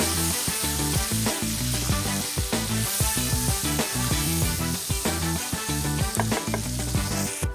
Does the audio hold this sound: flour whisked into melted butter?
yes